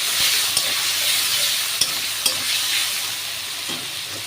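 Green chili paste fries in a pan with a loud, continuous sizzling hiss, broken by a few light taps and scrapes of stirring.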